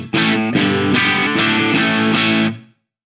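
Distorted electric guitar chords through a virtual cab, struck six times in steady succession, loud and sustained, ending with a short roomy reverb tail fading to silence.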